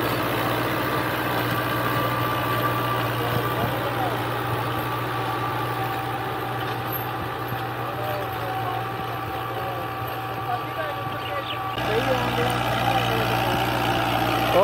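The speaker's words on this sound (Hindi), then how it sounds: "चेक कर लो दबंग 2019 मॉडल परफॉर्मेंस चेक लो ट्रैक्टर की" A Dabang 2019 model tractor engine runs at a steady idle on farm ground in Punjab, Pakistan, a continuous low throbbing drone close by with a slight shift in tone near the end.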